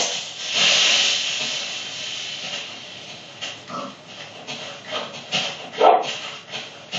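Dogs bark and growl through a hissy, compressed Minecraft game soundtrack, with a few sharper yaps standing out near the end.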